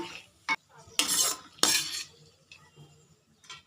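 Raisins fried in ghee being scooped from a pan with a metal spoon and set on a plate, heard as a few sharp scrapes and clinks of cutlery against cookware with quiet gaps between them.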